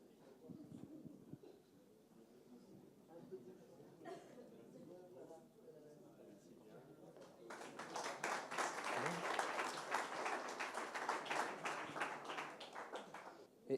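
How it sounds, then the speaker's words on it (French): A presenter's voice at a French asset-management industry event is followed by an audience bursting into applause about halfway through, the clapping rising and holding steady until the end. "On peut les applaudir."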